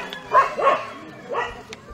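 A dog at a temple gives a few short barks close by, spaced out over a couple of seconds, with faint voices in the background.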